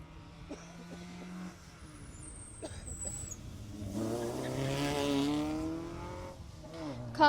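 Rally car at the Jersey Rally 2018 driving through a closed stage, its engine rising from a distant rumble to a louder revving pass with harmonic whine, then fading, with faint crowd noise.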